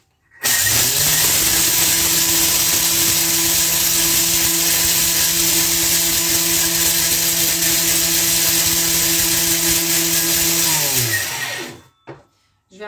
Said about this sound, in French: Mes 80 g de riz complet, je vais les mixer. Vitesse 10 et je vais mettre 10 secondes